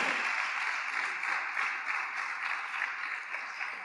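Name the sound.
congregation clapping hands in church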